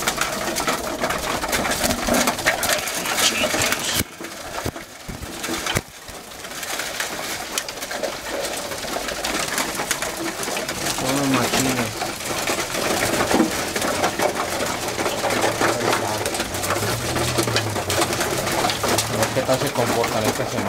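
Pigeons cooing repeatedly during feeding, low burbling calls over constant crunching and scratching of grain, with a voice at times in the busy, close mix.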